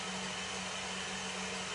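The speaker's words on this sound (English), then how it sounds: "I'm just going to put the other egg whites on to whisk" An electric mixer whisks egg whites with a steady, unbroken motor whirr and a constant hum, loud and close, running without pause and with no voices over it.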